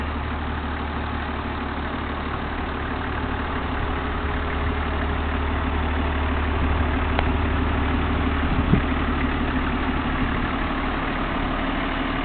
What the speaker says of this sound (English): 1991 Landcruiser 1HZ diesel with a 5-speed manual.